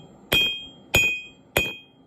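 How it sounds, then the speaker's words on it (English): Cross peen hammer striking a steel spike being forged into a knife blade, three sharp ringing metallic blows at an even pace, close and loud with a bright ring after each hit. "you can use the cross peen like this and hammer"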